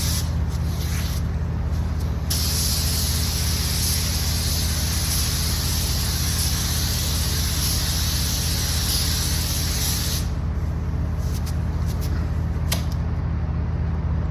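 Spray gun laying a light dust coat of solvent-based base coat on a vehicle repair panel, a steady loud hiss running almost the whole time with only slight shifts, no voices.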